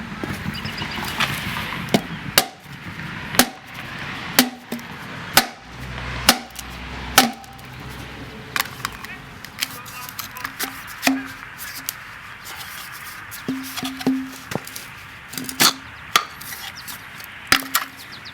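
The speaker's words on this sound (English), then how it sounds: "That sleeve is actually just pressed on there, and it will slide off with a couple solid hits when we turn it over" Solid hammer blows knock a pressed-on sleeve off a 1.75-inch canister shell mortar, a string of sharp, separate impacts at irregular intervals, fairly close, over a quiet workshop background.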